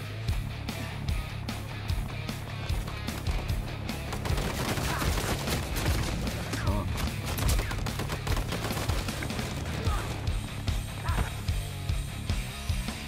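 Sustained gunfire from an Uncharted 4 firefight, with rapid shots and bursts crackling over a busy game soundscape for the whole stretch and no voices.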